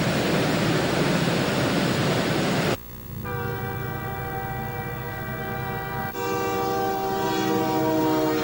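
Loud rumbling train noise in the Scottish Highlands gives way to a long, sustained multi-tone horn blast, which shifts pitch slightly as it continues over the rolling rail noise.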